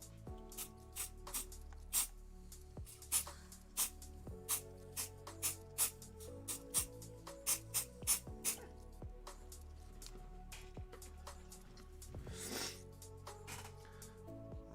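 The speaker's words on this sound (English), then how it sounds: "I have this smooth on mold release. I'm going to just spray a little bit on top of the model." Quiet, close handling clicks and taps, then a brief hiss of an aerosol mold release spray onto a miniature model near the end.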